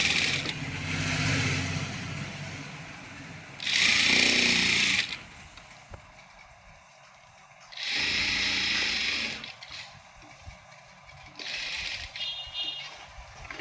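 A sewing machine stitches the bottom hem of a chudithar in three or four short runs, a loud whirring buzz that starts and stops, with quieter handling sounds in the pauses.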